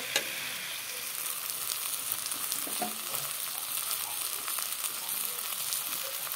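Spices sautéing in a pan for a Bengali katla fish curry with potato and brinjal, a steady close sizzle with occasional soft stirring scrapes throughout, no voices.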